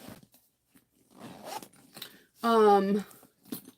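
A single quick zipper pull, a bright rasping zip lasting about half a second, surrounded by soft rustling and handling noises.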